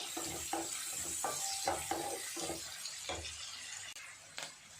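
Onions sizzle and fry in a pan while being stirred until brown, with soft scraping stirs in uneven bursts over a low crackle, fairly quiet and close, with no voices.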